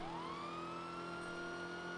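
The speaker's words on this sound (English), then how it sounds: "And you are in a chase, so we do want to hear sirens." A police car siren wails steadily in a GTA role-play chase, a continuous rising tone that levels into a sustained drone with strong harmonics, loud and unbroken for the whole stretch with no talking.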